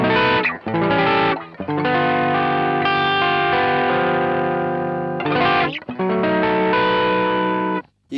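Guitar through a Boo Instruments OD/TS overdrive pedal, a TS808 clone, into a clean Marshall channel, giving a clear, defined drive. Sustained chords ring loud and close with brief gaps between strums, no voices.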